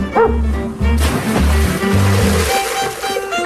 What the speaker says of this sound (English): his beloved rescue dog, Shadow.